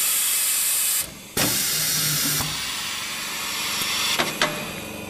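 A pneumatic air cylinder on a cushion-filling machine fires once with a sharp loud burst of hissing air, followed by a softer hiss and a few quick clicks and releases.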